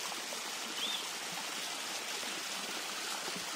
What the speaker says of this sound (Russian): Это водопад, не водопад.